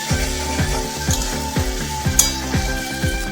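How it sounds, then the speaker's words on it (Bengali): Ginger paste fries in hot oil in a pan, giving a loud, close, continuous sizzle with a steady, regularly repeating rattling pulse running through it. "আদাটা একটু ভেজে নিই।"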